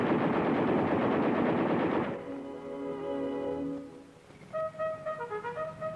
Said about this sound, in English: 105mm cannon and 2 machine guns. All weapons can be fired from within.